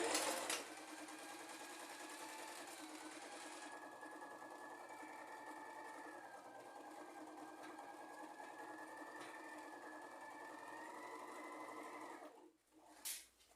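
Sewing machine running a continuous zigzag stitch on tricoline cotton fabric while making a cushion, a steady close mechanical whir for about twelve seconds before stopping, with no talking.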